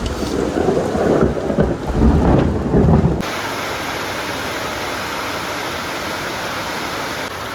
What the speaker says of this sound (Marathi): कोकणात पावसाने धुमाकूळ घातलेले आहे अशा प्रकारे